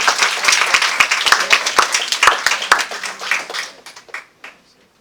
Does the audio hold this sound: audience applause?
yes